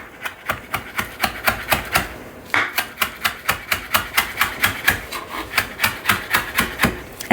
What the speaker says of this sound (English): so I'm going to chop the parsley.